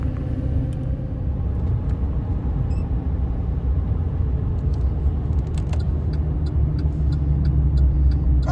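A pickup truck towing a heavy dump trailer loaded with firewood drives along a highway, giving a steady, continuous low engine and road rumble with faint rattles and no talk.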